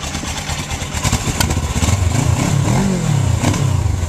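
A Honda CBR600 or Suzuki GS500 motorcycle engine runs close by with a steady throaty rumble and small revs rising and falling, alone, with no talking.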